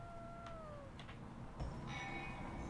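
A cat meows in the video game Impostor Factory, a short faint mew over a quiet tonal background with a soft thump near the middle.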